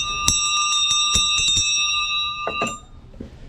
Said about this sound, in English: It's a big bell.